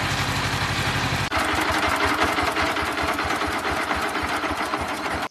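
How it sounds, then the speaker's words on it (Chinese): Tractor diesel engine idling with a steady low thumping pulse, then the beat loosens and slows into an uneven chugging as the engine winds down toward shutdown; loud and close, with no talk. "这拖拉机是慢慢关火的呀"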